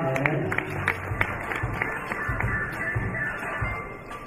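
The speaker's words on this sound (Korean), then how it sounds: "큰 박수로 축하해 주시기 바랍니다" An audience applauds at the Internet Eco & Smart App Award 2011 ceremony, greeting a prize winner with steady, dense clapping that keeps a crowd-like wash throughout, with no voices on top.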